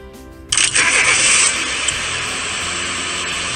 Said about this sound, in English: That is a car.